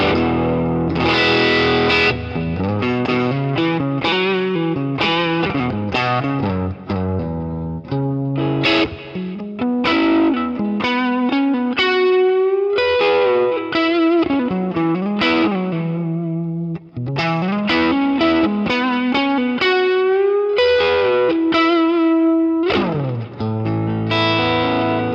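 An electric guitar runs through a classic amp profile on a profiling amplifier, giving a heavily distorted tone with some chorus-like shimmer. It plays a continuous riff of chugging notes and sustained bends, loud and up close, with no talking.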